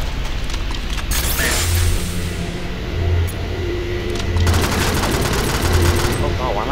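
Rapid automatic gunfire from Alien Swarm, bursts of crackling shots with rhythmic thumping loops underneath, loud and near, with people talking now and then.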